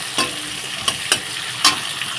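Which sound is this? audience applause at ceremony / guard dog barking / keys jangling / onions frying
onions frying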